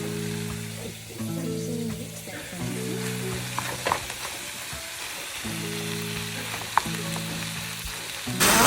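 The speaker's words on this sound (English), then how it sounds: "Mixing in the peppers, the meat, as I should." Peppers and meat sizzle steadily in a hot pan while being stirred, a close continuous frying hiss with occasional scraping clicks, underlaid by a faint tonal background hum.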